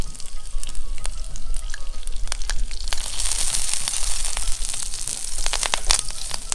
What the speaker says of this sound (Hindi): कड़ी पत्ते भी हम घी में ही भून लेंगे।